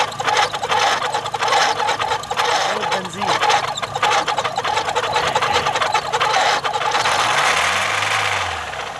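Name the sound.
loose car air conditioning belt slipping and squealing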